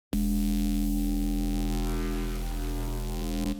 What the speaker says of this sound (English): this is the fog horn without the automation and effect.